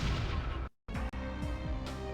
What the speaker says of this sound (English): We get that, you know, 3 gunshots sound effect, even though there's nothing like that really going on.